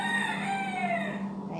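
A rooster crows in one long, drawn-out call, close and loud over a steady low background hum.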